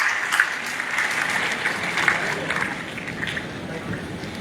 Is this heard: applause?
yes